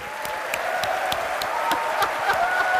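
An audience applauds steadily at a defense forum in St. Louis as Secretary of Defense Ash Carter is welcomed, a broad dense wash of clapping with a few sharper individual claps, fairly close and building slightly.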